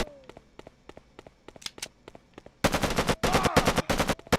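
Video game gunfire: a rapid string of sharp, close shots, first spaced and lighter, then a loud, dense automatic burst in the second half.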